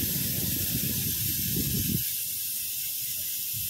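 Air hisses steadily and loudly from a punctured car tubeless tyre after the nail has been pulled out. A low rumble lies under the hiss for the first two seconds, and the hiss goes on after it fades.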